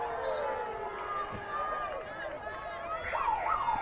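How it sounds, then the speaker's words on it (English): A three-quarter time siren sounds at a women's international field hockey match between New Zealand and Australia, a rising wail heard over steady crowd hubbub and commentary voices. "And there's the 3/4 time siren."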